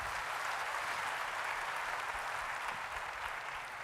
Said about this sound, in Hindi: एक बार उनके लिए जोरदार तालियां होनी चाहिए।